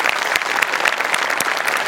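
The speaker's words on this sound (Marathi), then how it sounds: "मस्त जोरदार टाळ्या शिवालीसाठी." A studio audience at a Marathi comedy show claps after a sketch performance: dense, steady applause from a large crowd, close and loud throughout.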